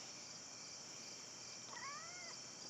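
A single short, rising-and-falling meow from a house cat during an outdoor walk, faint and somewhat distant over a constant hiss of insect or background noise.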